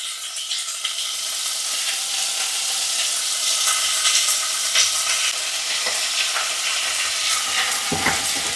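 Tomatoes fry in a pan alongside roasted peppers, a continuous close sizzle and hiss with occasional crackles and stirring scrapes, steady in loudness with no speech.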